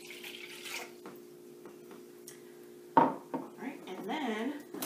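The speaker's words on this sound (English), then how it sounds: "I'm going to pour that right into my bowl." Warm water is poured into a mixing bowl while making pizza dough, a close splashing pour that starts partway through with light kitchen clatter and a low steady hum before it.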